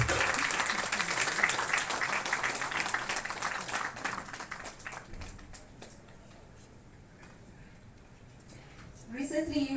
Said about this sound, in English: I request everybody to kindly clap.